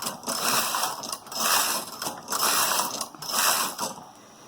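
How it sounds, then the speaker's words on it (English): A knitting machine carriage knits a row while making buttonholes, giving a loud rhythmic ratcheting rattle in four sweeping surges, each swelling and easing about once a second. "I'll just set the carriage to knit back from hole and off we go."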